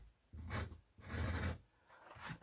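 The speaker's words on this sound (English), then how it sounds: "I want to get that hole in there and just make the hole a bit bigger" A plasterboard wall is scraped to enlarge a hole, giving three faint, close rasping strokes separated by brief pauses.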